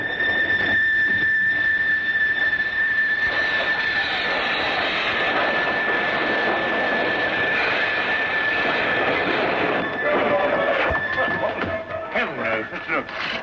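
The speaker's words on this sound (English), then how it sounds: "train trip." A passenger train runs on its rails at night, a loud continuous rumble with a steady high squealing tone on top and a sound that swells and roughens toward the end.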